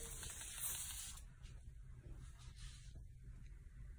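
A Hawaiian breeze scent spray hisses from its bottle in one steady burst of airy mist lasting about a second, followed by quieter rustling in a room.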